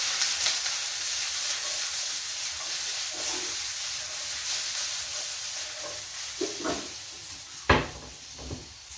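Garlic cloves sizzle in a pan while being stirred, a steady hiss throughout with a few scraping stirs and a sharper clack of a utensil or pan near the end, close and alone.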